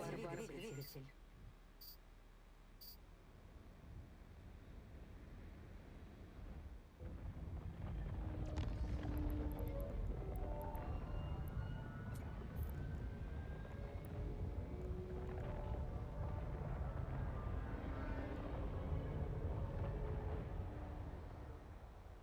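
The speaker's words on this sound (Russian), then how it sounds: "Включаю двигатель." A spaceship engine in EVE Online spools up after a quiet start, swelling into a steady, loud rumbling roar with shifting tonal layers that holds to the end, with occasional speech underneath.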